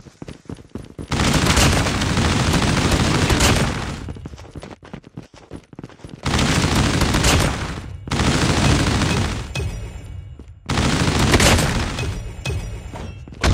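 Heavy automatic gunfire in a Call of Duty match, arriving as long, loud sustained bursts separated by brief pauses, with dense rapid shots and clattering impacts.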